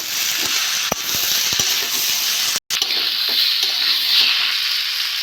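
Spices and tomatoes frying in hot oil in a pan, a loud steady sizzle broken by a few scraping stirs and knocks, with a brief drop to silence partway through.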